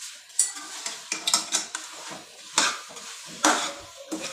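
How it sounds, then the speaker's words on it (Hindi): Masala being stirred and fried in a pan over a high flame for chili chicken gravy, with repeated scraping clinks of a spoon against the pan and a soft sizzle underneath, close and fairly loud. "अब बस मसाले को भून लें थोड़ा हाई फ्लेम पे।"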